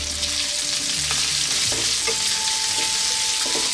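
Onion tipped into garlic already browning in oil for chicken Bicol Express, giving a loud, dense, continuous sizzle with a few stirring clicks and scrapes close by, no talking.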